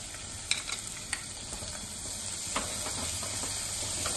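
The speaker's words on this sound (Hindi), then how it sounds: "1 से 2 मिनट भून लीजिए आप" Chana dal stuffing with garam masala and salt roasting in a pan over low heat: a soft, steady sizzle with a few light taps of a spoon stirring, fairly quiet and close.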